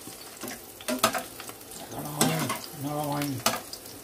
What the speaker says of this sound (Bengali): লঙ্কা ভাজার চেহারা দেখো